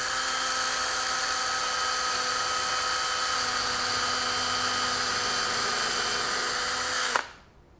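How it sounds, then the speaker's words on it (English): An electric power drill runs in one steady, loud, continuous whine, boring pilot holes into the end grain of wood for a DIY acoustic panel frame, then stops abruptly near the end. "the first thing we'll do is to drill a couple of pilot holes in here"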